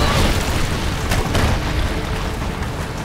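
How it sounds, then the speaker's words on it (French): An explosion in a Tomb Raider video game, a loud, sustained rumbling roar with a sharper burst near the middle, slowly settling without dying away. "Bah dis donc, une explosion, ça fait des dégâts"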